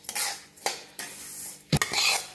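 Sesame seeds dry-roasting in a pan on low gas while a metal spoon scrapes and stirs them, giving a few sharp clinks and scrapes against the pan, close and fairly quiet.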